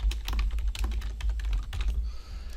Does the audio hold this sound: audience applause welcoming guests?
no